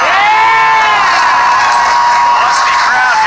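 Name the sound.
live audience cheering at Schmoedown trivia match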